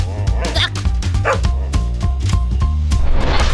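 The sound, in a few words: dog barking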